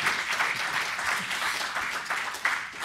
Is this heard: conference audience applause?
yes